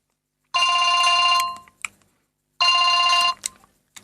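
A telephone rings in two loud, close electronic trills, each about a second long and separated by a pause, with no one talking over them.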